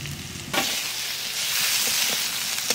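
Onion and garlic fried in oil, followed by boiled taro added to the pan, giving a loud, close, steady sizzle with a sharp burst as the taro goes in and light stirring.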